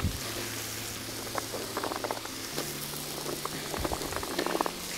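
Carrots go into onions frying in a cauldron over an open fire, giving a continuous soft sizzle and bubbling with scattered small crackles and pops, moderately close and without speech.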